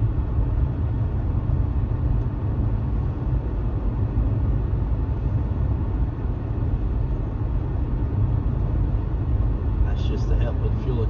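Cabin of a car with a CVT transmission cruising at 60 mph with the engine at about 1500 RPM, giving a steady low road and engine drone with broadband tire hiss. Someone speaks over it.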